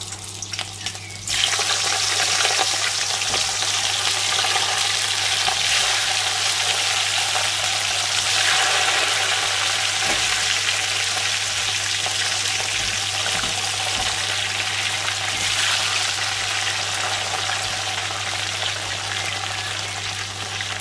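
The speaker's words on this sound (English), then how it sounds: "add onions. So we start frying." Onions sizzle and crackle steadily in hot oil, a constant frying hiss lasting throughout with a low hum underneath.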